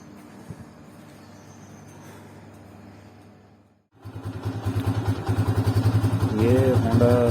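Honda CG 125 2021 model motorcycle engine running close by with a low, steady idle that cuts out briefly, then catches again louder with a rising rev near the end.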